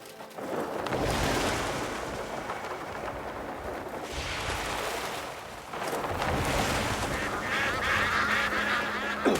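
Ducks quack and honk near water in the video game Crimson Desert, with steady washing ambience and splashing over the whole stretch and no voices.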